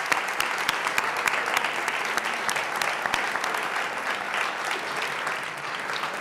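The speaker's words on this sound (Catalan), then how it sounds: "O sigui, que us demano un aplaudiment per Telecardedeu." An audience at a live café-style political talk event in Cardedeu applauds steadily and densely, a close, full wash of many hands clapping with no break and no voices on top.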